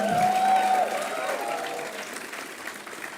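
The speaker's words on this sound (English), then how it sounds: "clap for your parents and family" Graduates at a design institute convocation ceremony applaud their parents and families, a broad crowd clapping that fades gradually over a few seconds, with a faint tonal feedback-like whine early on.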